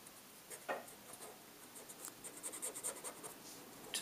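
A chalking tool dabs and rubs chalk onto a bear face design on a card, giving soft, close scratchy strokes in a quick run of short brushes.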